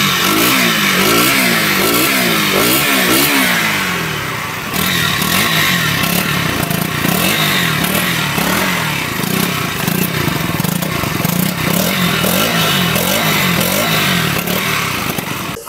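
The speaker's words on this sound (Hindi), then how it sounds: "आइए हम आपको सुनाते हैं ड्यूक 200 का एग्जॉस्ट साउंड।" A 2024 KTM Duke 200 motorcycle with an underbelly exhaust idles and revs repeatedly up close, its loud raspy note climbing and dropping in sharp bursts throughout.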